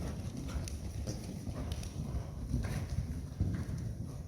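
Horse hooves clip-clopping steadily over cross rails during ground pole and cavaletti work, a quick even rhythm of muffled thuds set against constant low rumbling background noise.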